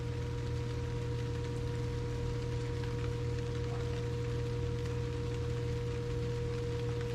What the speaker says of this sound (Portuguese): dá para até a gente ouvir o ruído da chuva caindo sobre a vegetação